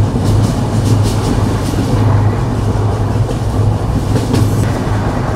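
The Rupsha Bangla Express rumbles loudly along the rails on its Benapole to Dhaka run, a steady roar heard from inside with faint rhythmic clicks of the wheels.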